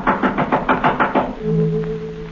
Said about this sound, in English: someone knocked at the front door.